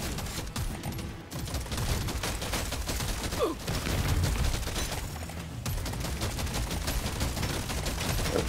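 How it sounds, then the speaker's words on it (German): Dense gunfire from enemies in the video game Deep Rock Galactic: Survivor, a continuous fusillade of rapid shots with bursts layered over one another, loud and sustained throughout. "Kam gerade ein paar Schüsse auf mich zu."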